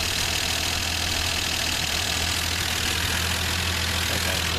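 The engine of an old, long-forgotten Plymouth Valiant idles nearby with a steady, loud, rough drone that holds level and does not change.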